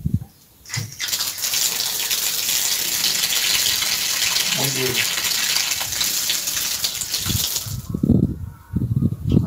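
Water gushes steadily from a household faucet tap being checked for leaks, a close, continuous rushing stream lasting several seconds before someone speaks briefly.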